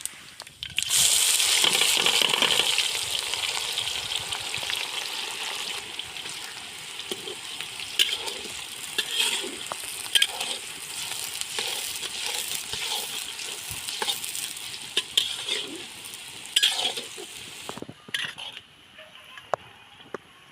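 Onion drops into hot oil alongside fennel seeds and fries with a loud initial hiss, then keeps sizzling more softly while a spoon stirs and scrapes the pan, with occasional clicks, before quieting near the end.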